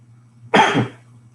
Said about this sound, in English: getting like this dry cough or something